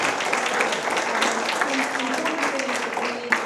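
An audience at a libertarian election-special event applauds steadily for a few seconds, a sustained wash of clapping with faint voices mixed underneath.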